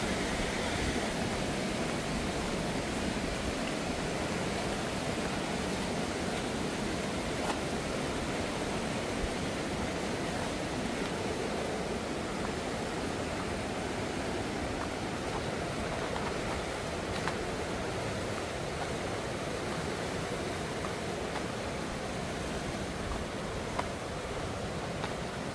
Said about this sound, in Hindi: ये छोटा सा झरना है